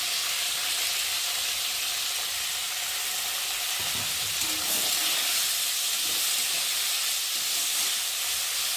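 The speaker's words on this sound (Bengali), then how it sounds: "আর এখন আমি সবজিগুলো ভালো করে ভেজে নেব" Salted mixed vegetables fry in hot oil in a pan for chow mein, giving off a steady, dense sizzle with a few clinks of stirring, close and without speech.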